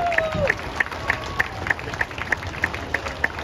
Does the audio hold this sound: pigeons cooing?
no